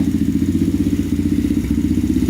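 An old pit bike that sat in a barn for years idles steadily up close, its single-cylinder engine throbbing in an even, rapid pulse without a break.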